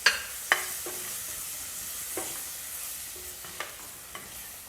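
Tomato cooking in a pan with garam masala, a soft, steady sizzle broken by a few sharp clinks and scrapes of a spoon, close and fairly quiet with no speech.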